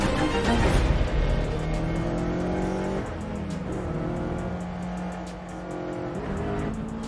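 Car engines roar and tires squeal through a police car chase, the engine notes rising and shifting as vehicles pass, with a steady, fairly loud wash of motor noise.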